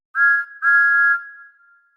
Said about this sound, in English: That sounds like a really good engine whistle.